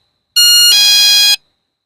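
A single loud, close electronic chime of about one second from a motion-triggered cattle-theft alarm device, its pitch pattern shifting midway before it cuts off into silence.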